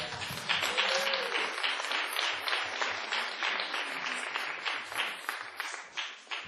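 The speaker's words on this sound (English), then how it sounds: "Round of applause for the charter." A congregation at a secular Sunday assembly in Pittsburgh claps for several seconds, a moderate crowd applause with individual claps audible, tapering unevenly toward the end.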